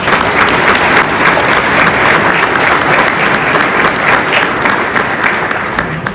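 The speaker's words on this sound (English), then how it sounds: "let's give her one more round of applause." Sustained, dense applause from a large audience at an economic summit, loud and steady for the whole stretch, with no talk over it.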